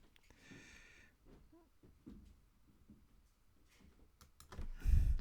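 Light, scattered keystrokes on a computer keyboard, a few short clicks at a time, quiet and close, with soft background noise and a louder clatter near the end.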